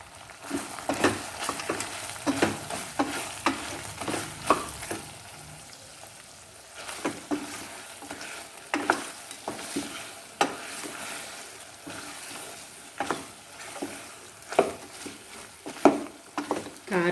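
Country chicken curry being stirred in a pan after chili powder goes in, a soft continuous sizzle broken by repeated scraping spoon strokes in an uneven rhythm, close and moderately loud.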